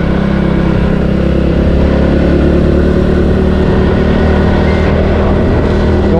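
A Suzuki Raider J 115 motorcycle engine runs steadily and loudly on a mountain loop road, a close, continuous drone with no pauses.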